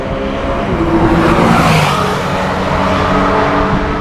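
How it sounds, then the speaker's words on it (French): Cars roar past on a race track at a Pirelli PZero driving event, a loud sustained engine drone rising and falling as one sweeps by nearby, with no talk. "je vais me poster là pour filmer un petit peu les voitures passées"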